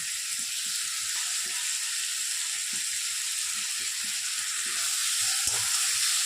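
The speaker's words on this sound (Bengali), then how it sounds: "আলুটা এইভাবে ভেজে নেব।" Potatoes fry in a pan with a little salt and turmeric, a constant even sizzle and hiss with faint scattered crackles underneath, moderately loud and continuous, no one speaking.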